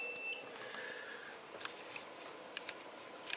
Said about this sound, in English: the ringing when the transformer switches off